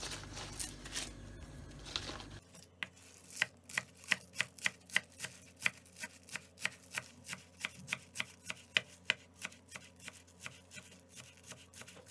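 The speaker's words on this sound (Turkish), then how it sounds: "Sadece yeşil tarafına keselim ve ince ince doğrayalım" A knife chops the green parts of four green onions finely on a board, making a long run of quick, evenly spaced taps close by after a brief rustle at the start.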